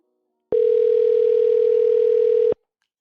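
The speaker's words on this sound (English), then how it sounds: "Calling John" A single steady telephone tone sounds during an outgoing call. It is pure and continuous and lasts about two seconds, clean against silence, with an abrupt start and stop.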